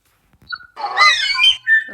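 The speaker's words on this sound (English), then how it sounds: "you can barely hear the call." A Moho bird call from the video game Feather Family: a wavering, whistled wail that rises and falls for about a second, then a short higher whistled note, fairly clear against a quiet background with no talk.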